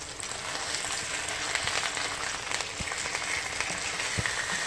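Sea bass fillets frying in a pan, a dense continuous crackling sizzle with scattered pops, close and fairly loud throughout, no voices.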